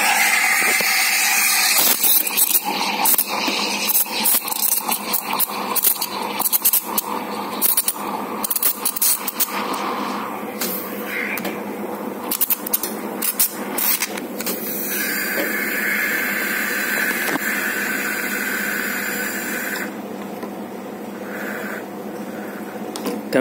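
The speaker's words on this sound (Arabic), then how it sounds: "هنضربه في الخلاط ونسيبه يتضرب شويه هيطلع لنا فوم كتير" A blender whirs loudly and close, its motor whine rising and sputtering unevenly as warm milk churns into froth.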